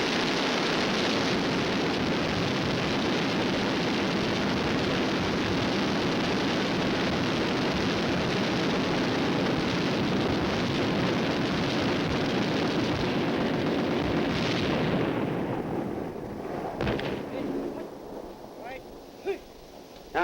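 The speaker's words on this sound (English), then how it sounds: "Now, gentlemen, those tanks only fired 13 seconds." Tanks firing their 90mm main guns together with machine guns in a military demonstration, a dense, continuous roar of blasts and rattling fire lasting about fifteen seconds before dropping off to scattered, fainter shots.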